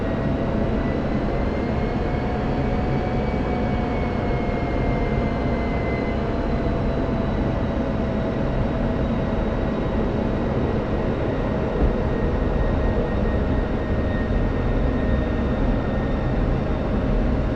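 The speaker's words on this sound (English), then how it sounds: "Just landing a really fast, really powerful GA aircraft." Jet-boosted Cessna 172 in a flight simulator roaring continuously through a landing, a loud steady engine drone with faint shifting whine tones, no voices.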